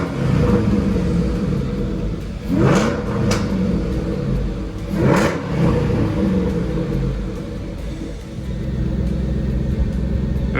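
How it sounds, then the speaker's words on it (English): Engine of a 2011 Ford Shelby GT500 revved in park during a coolant flush, two distinct rising revs over a steady deep idle rumble, close and loud. "I'm just gonna rev it and get some circulation."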